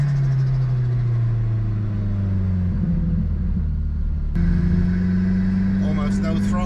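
Car engine under light throttle, about 20% pedal, pulling with near-instant turbo boost; a steady, loud low rumble with a rising tone that drops briefly then resumes, over continuous cabin noise.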